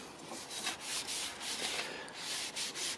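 A hand rubs finish into a carved wooden sword in repeated soft strokes, a steady swishing friction close up with a regular back-and-forth rhythm.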